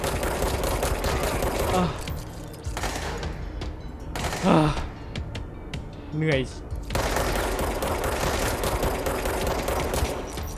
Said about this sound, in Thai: โอ้โหยิงไม่โดน